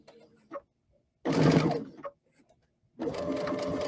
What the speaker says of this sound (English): Push underneath the foot, sew over top.